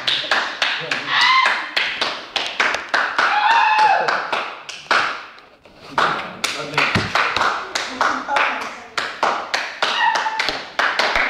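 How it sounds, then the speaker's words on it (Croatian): An audience applauds with quick, sharp hand claps that come in dense bursts, break off briefly midway, then pick up again, with voices mixed in. "Aplauz."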